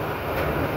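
A local diesel train rumbles along the Bhairab to Akhaura line after leaving Talshar station, a steady low roar with broadband rattle that stays loud and constant throughout.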